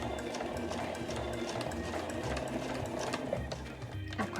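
A sewing machine runs continuously up close, backstitching over the thick tuck of a pocket on a flat A4 tote bag, with a steady rapid whirring throughout and a voice talking faintly over it.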